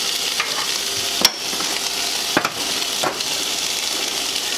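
Milk is stirred into a gravy in a hot pan, a steady sizzle and hiss broken by a few sharp scraping strokes of the utensil, with no talking.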